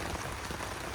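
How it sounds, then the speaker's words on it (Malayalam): Continuous rain falling on an open village field, a dense, steady hiss of drops that stays even and close for the whole moment, with no voices. "തുടർച്ചയായി പെയ്തുകൊണ്ടിരിക്കുന്ന മഴയിലും"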